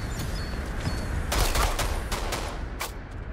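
Rapid gunfire in the online shooter game Rogue Company, a string of sharp shots in short bursts over a steady background rumble, fairly close, with no talking.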